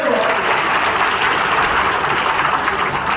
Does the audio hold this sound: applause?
yes